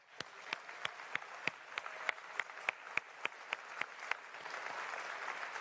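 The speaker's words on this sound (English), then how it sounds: "please give yourselves a huge round of applause." An audience claps at a Frontier Expo 2017 panel for Elite Dangerous, sharp individual claps standing out at first before merging into a full, steady round of applause that swells toward the end.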